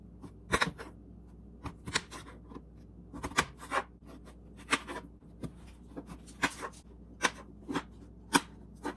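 A raw potato is scraped with a hand peeler and then cut up, giving close, sharp scraping strokes and knife taps in an irregular rhythm, with no talking.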